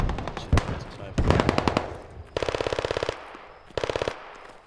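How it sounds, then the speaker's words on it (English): Rapid bursts of automatic gunfire in the video game Squad crackle in several quick volleys, sharp and fairly close, with short pauses between them. "those gunshots sound really close"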